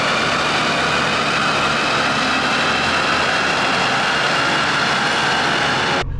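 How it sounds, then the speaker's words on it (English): A Maybach 62 running at over 100 mph on a loud chassis dyno gives a steady, dense, unbroken engine and roller roar that holds level for about six seconds, then cuts off abruptly at the end. "The car's going 110 miles per hour on the dyno right now."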